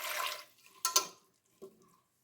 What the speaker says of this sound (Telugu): ఒక గ్లాసు నీళ్లు పోస్తున్నాను